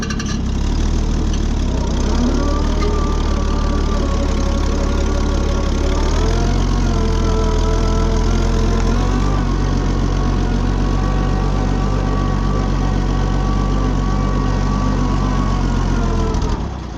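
A tractor engine close by runs loud and steady at idle, a rough continuous rumble with a slight shift in pitch partway through as the choke is worked.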